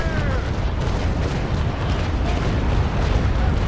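Sailing-ship cannons firing chain shot in a naval battle game, a dense continuous rumble of heavy booms and blasts rolling together at high volume with no clear gaps.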